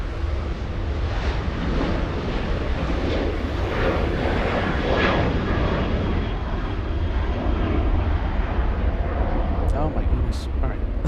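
A WestJet airliner at LAX, its jet engines producing a loud, continuous broadband roar that holds steady throughout, with wind buffeting the microphone and a person talking over it.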